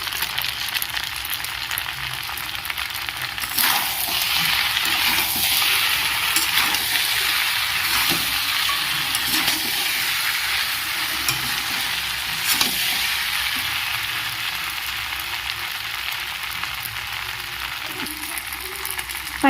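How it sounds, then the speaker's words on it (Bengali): Pasta being fried in a pan with Maggi masala seasoning gives off a continuous hissing sizzle for about twenty seconds, with occasional scraping and stirring clatter against the pan. "পাস্তাটাকে আস্তে আস্তে ভালো করে ভাজতে হবে।"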